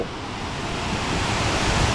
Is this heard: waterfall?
yes